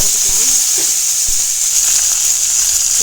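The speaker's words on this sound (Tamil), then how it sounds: "கடுகு பொரிஞ்சிடுச்சு இப்போ கருவேப்பிலை போட்டுக்கலாம்" Curry leaves added to hot oil where mustard seeds have already popped, making a loud, steady sizzling hiss with a couple of brief crackles near the start.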